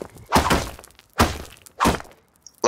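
Spear strikes land against a stone wall in a survival video game, three sharp, loud thunks spaced about a second apart, with a fourth starting at the end and no talk.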